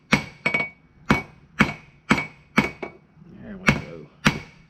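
A hammer forges and thins a steel patch knife blade on an anvil, ringing out in about nine sharp, close metallic strikes at an uneven steady pace, with a brief spoken remark between blows.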